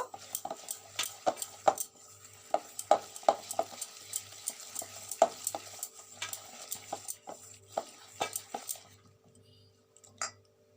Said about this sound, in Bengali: এটা ভালো করে আমি গুলিয়ে নেব